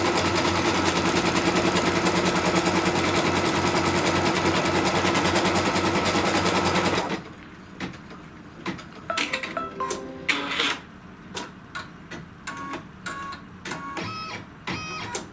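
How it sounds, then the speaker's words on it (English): An embroidery machine stitches a placement line on fabric, first as a loud, steady whirring buzz that then stops and gives way to scattered clicks and short mechanical ticks. "what it's going to stitch out first is just the placement line"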